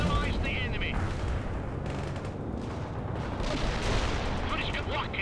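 Battle noise from the video game World in Conflict: continuous gunfire and artillery blasts overlapping in a dense, loud barrage, with no clear pauses.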